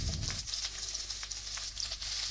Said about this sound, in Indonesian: Setelah minyak panas, masukkan irisan bawang bombay.